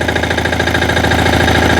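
A Motor Sich walk-behind tractor engine runs steadily at close range, a loud continuous mechanical chug with an even knocking pulse and no talk over it.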